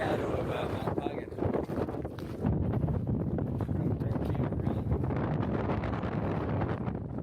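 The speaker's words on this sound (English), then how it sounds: "It was a little windy." Wind blows across a barren cinder field in the shadow of Mount Pagan in the Marianas, a steady, fairly loud broadband rush and buffeting against the microphone that lasts the whole stretch, gusting slightly stronger partway through.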